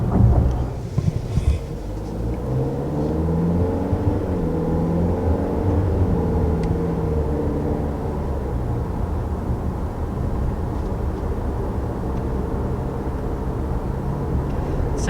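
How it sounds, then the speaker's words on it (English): A 2019 Cadillac XT4's turbocharged four-cylinder engine hums steadily from inside the cabin, with rising and falling harmonic sweeps as it accelerates and a faint turbo whistle riding above the continuous drone. "it definitely sounds like a Turbo 4, but I kind of like that I can hear the turbo whistle"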